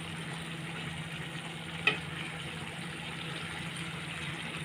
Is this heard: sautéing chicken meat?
yes